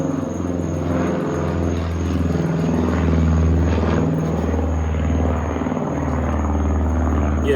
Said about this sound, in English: I got a plane passing by.